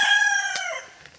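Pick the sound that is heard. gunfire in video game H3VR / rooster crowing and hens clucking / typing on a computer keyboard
rooster crowing and hens clucking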